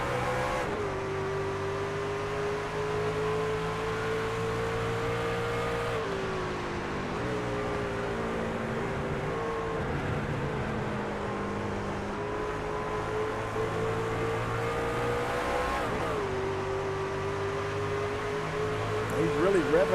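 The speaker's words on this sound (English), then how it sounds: "I think that's just the engine revving up" A race truck engine drones steadily with rising and falling revs across several shifts, loud and close, with crowd or commentary noise mixed underneath.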